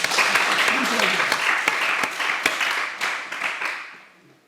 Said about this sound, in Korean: 우리 옛사람 출신들 학생들도 박수 한번 칩시다.